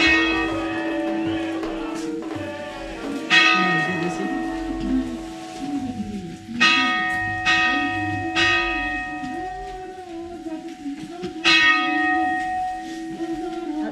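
A village church bell swings and rings in its bell tower in Gabrene, Bulgaria, sounding several loud, resonant strikes at irregular intervals with long ringing decay over a steady background hum.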